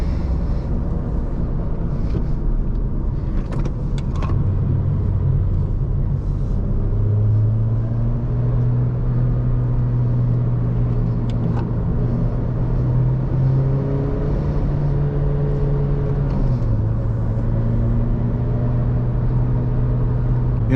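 Toyota Corolla XRS on a spirited mountain-road drive through tight corners, heard from inside as a steady engine drone and road rumble that rises and falls in pitch with revs, continuous and fairly loud, with no talking.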